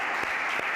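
A church congregation claps together in a dense, steady burst of applause that fills the whole short moment, with no pause or speech.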